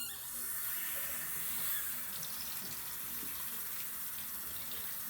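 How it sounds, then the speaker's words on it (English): Warm water runs from a sink faucet in a steady, unbroken stream, splashing softly into the basin at a moderate level for several seconds. "I'm going to turn on the water"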